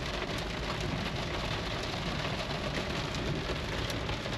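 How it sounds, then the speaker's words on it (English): Hail and rain pound steadily on a Lexus GX470 during a storm, a dense, loud, unbroken hiss and patter heard from inside the vehicle, with no talking. "It's hailing now."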